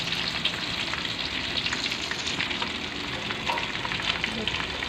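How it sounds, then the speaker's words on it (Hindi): Chicken chargha frying in a pan, a steady, close sizzle that holds at the same level throughout with no talking. "ये अच्छे से बिल्कुल फ्राई हो चुका है।"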